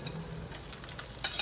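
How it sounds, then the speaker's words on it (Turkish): Künefe made with mozzarella cheese, frying in a pan as it is flipped to brown the other side: a soft steady sizzle up close with a couple of light clinks near the end. "Diğer tarafı fazla kızarmadığı için tekrardan kızartmak istiyorum."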